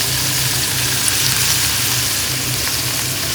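Pieces dipped in a mixed gravy coating fry in a pan, giving a steady, dense sizzle and hiss that holds evenly throughout, close and fairly loud, with no talking.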